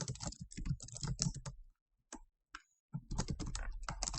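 Fast typing on a computer keyboard, close and clear, in two bursts of rapid key clicks separated by a short pause with a few isolated taps.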